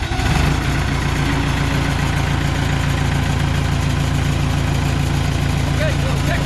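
Diesel engine of a Case 450C bulldozer with a rebuilt hydraulic lift cylinder, started and left running: a loud, steady low rumble and vibrating idle, close up, with a voice briefly speaking over it.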